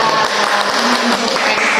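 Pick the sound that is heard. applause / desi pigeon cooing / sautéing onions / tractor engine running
applause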